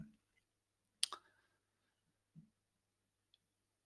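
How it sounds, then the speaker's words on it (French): A single sharp mouse click lands on a save button in WordPress, quiet and close, followed by a couple of faint softer taps in a near-silent room. "je clique sur enregistrer le type de publication"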